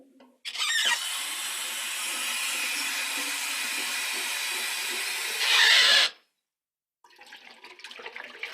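Water runs into a drink bottle in a steady hissing stream for several seconds, swells briefly as the bottle fills and stops sharply, followed by faint sloshing as it is rinsed out.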